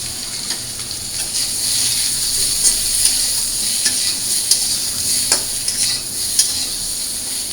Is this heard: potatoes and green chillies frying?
yes